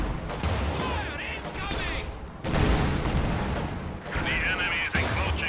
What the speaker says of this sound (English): They're actually going to come in while the Su-76 is barraging the church.